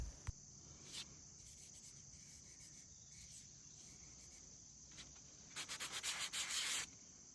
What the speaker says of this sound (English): here I'm just showing you the 220 grit sandpaper that I'm using to sand the back of this lid down with